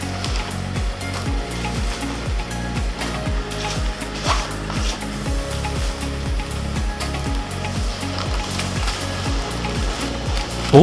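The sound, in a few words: semi-automatic packing machine sealing puttupodi packets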